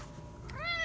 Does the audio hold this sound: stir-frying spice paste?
no